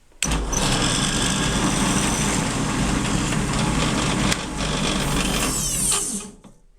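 A power drill spins a bit down into a marked pilot hole, a steady, loud high-pitched whine running continuously for about six seconds before winding down as it stops.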